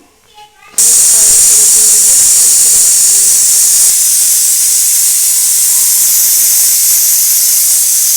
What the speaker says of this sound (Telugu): మిక్సీ పట్టుకొని